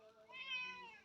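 An orange cat meows, one drawn-out, rising and falling call that sounds close and clear in a quiet garden setting.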